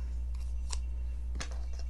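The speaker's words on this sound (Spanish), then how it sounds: "tijeras." Scissors make two crisp, brief snips about three-quarters of a second apart at close range, over a steady low background hum.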